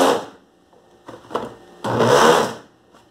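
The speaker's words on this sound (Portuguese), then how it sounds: "Esse liquidificador tá com fuleiragem." A blender mixing hot chocolate starts in short bursts, stopping and restarting, then runs for about a second in one loud whirring surge before cutting out.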